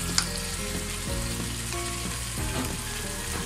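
Chicken meat sizzling and frying in a pan while being cooked down for chicken soup, a steady dense crackle with occasional scraping and clinking from stirring, no voices.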